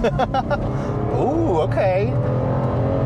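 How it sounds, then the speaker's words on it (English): A 2003 Lexus IS 300 Sport Design's inline-six revs up and falls back in rising and falling sweeps, loud and close, while people talk briefly over the engine note. "That engine does have a good note to it."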